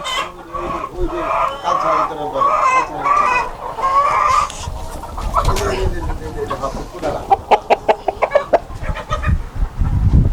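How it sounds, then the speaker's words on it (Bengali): Tiger chickens on a farm, several roosters and hens clucking close by with a crow-like call early on, mixed with a voice speaking and sharp rhythmic knocks near the end. "আমার মোরগ মোরগগুলো আমি দেখাই"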